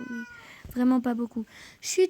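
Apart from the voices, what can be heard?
pet cat meowing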